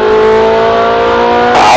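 A Ferrari 458 Italia holds a steady, loud, close engine note on the Red Bull Ring, then surges into a sharper roar as it accelerates at the end.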